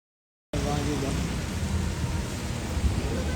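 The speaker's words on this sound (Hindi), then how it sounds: "अभी बारिश का मज़ा ले रहे हैं।" After a brief moment of silence, a steady, even hiss of rain in Srinagar fills the space and continues without a break.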